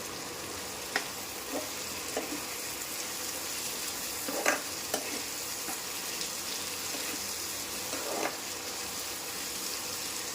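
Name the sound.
stirring tempering in pan with spoon, adding asafoetida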